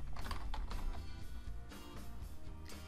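Mouse-button clicks and computer keyboard typing while adding a floor drawing in software, a rapid run of dry, close clicks and taps over a low steady hum, with no voices.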